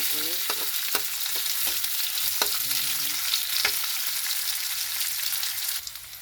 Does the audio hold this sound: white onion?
yes